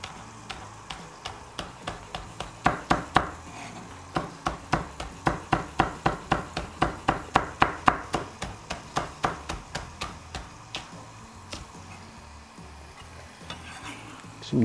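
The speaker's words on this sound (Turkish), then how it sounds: "Onları da soğanla beraber bir süre soteliyorum." Sliced green peppers and onions being sautéed in a pan, heard as a run of sharp, rhythmic utensil knocks and stirring scrapes over a soft sizzle, fading toward the end.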